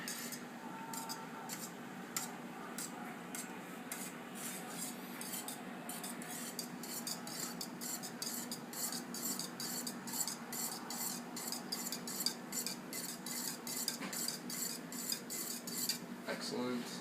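Metal utensil scraping and clinking steadily against a bowl while milk is stirred into the ingredients, a continuous close rhythm of light clatter with no talk.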